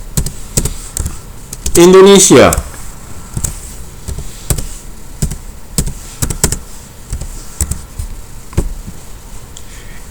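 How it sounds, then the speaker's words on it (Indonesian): Fingers tap on a computer keyboard while text is entered into a spreadsheet cell, a close, quick run of light irregular clicks that continues around a single brief spoken word. "jika misalnya kita mengetik sesuatu ini di sini"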